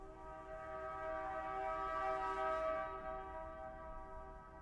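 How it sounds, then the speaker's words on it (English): A sustained, tonal train whistle holds for several seconds, soft and distant, swelling slightly in the middle before fading. "The whistle of a train that never arrives, echoing across the desert."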